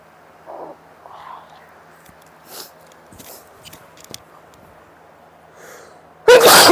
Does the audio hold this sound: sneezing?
yes